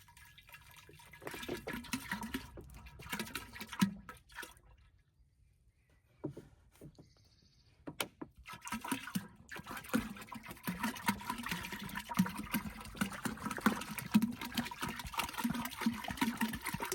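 Water runs and splashes steadily for organic biol fertilizer, a continuous pouring sound with a brief pause in the middle, fairly quiet and with no voices.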